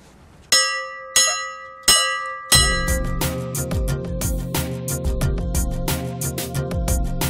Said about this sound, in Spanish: Me voy a acercar a la campana. Vamos, porque yo quiero oírla.